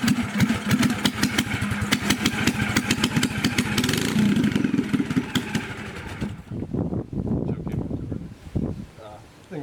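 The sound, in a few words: 390cc go-kart engine running loud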